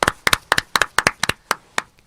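Two hosts of a Korean talk show clap briefly to celebrate new subscribers, giving about a dozen crisp, close hand claps in a quick irregular rhythm that thin out and stop near the end.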